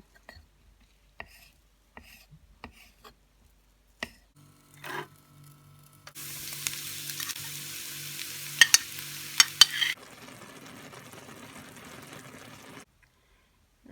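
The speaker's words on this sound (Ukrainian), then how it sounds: "Для паштету нам потрібна подрібнена цибуля, та також я наріжу гриби і треба буде їх підсмажити" Chopped onion and larch bolete mushrooms are tipped into a pan after some knife taps, then sizzle and crackle steadily while being stirred, with sharp clicks of the utensil against the pan before the frying settles to a softer hiss.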